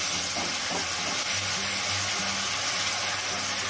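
Onion paste hits hot oil in a pan along with dried red chilli, bay leaf and whole spices, giving a loud, continuous close-up sizzle and hiss throughout.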